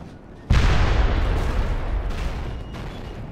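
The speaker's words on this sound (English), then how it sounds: "The artillery has opened fire." Artillery fire from a battery of early cannon, the Twelve Apostles, in the Medieval II: Total War mod For King or Country; a sudden loud boom opens a long rumbling, crackling roll of distant shots that slowly fades.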